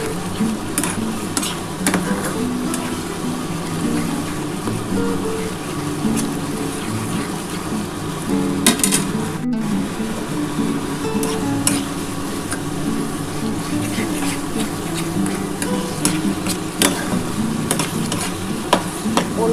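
Banana stem paste (thor bata) stirred in a frying pan, a continuous close scraping and sizzling texture with occasional utensil knocks, steady throughout with no voices.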